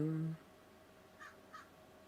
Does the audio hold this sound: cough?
no